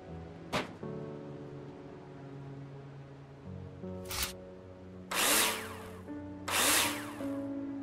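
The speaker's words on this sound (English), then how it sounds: "screw them in with a drill" A drill driving screws into wall profiles in the Builder Simulator video game: a quick snap, then several short whirring bursts growing longer toward the end, over steady background game music.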